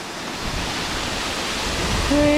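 Ramboda Falls in Sri Lanka roars as a steady, loud wash of falling water, continuous broadband rush with no breaks and a faint tone near the end.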